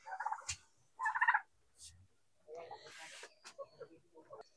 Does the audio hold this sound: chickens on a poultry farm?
yes